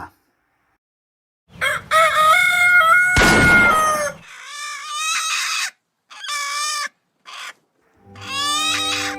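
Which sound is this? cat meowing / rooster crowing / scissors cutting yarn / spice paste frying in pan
rooster crowing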